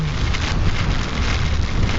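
Heavy typhoon rain pours steadily with a dense, hissing roar, loud and unbroken, with a hint of wind and no voices.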